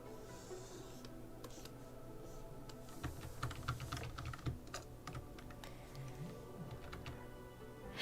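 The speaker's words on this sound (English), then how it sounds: "Yeah, you could hear the clicking, Kimmy." Rapid, irregular clicking from a computer keyboard during animation work, the light key taps close but faint, bursts clustering in the middle over a soft steady room hiss.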